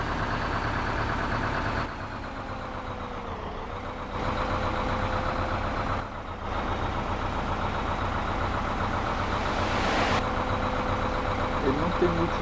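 Bus engine in the video game Bus Simulator Pro, a continuous drone that shifts in level and pitch as it accelerates, with someone talking over it.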